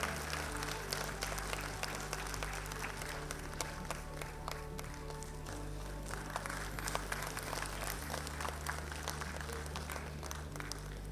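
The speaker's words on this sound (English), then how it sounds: "Let's have a huge round of applause for them." A school annual day audience claps for award winners on stage, a dense, continuous round of applause that holds steady throughout with a faint low hum underneath.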